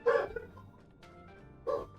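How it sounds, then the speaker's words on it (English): A dog barks twice, about 1.5 seconds apart, indoors and fairly close, with quiet room tone between the barks and no talking. "He comes through and he barks and stuff."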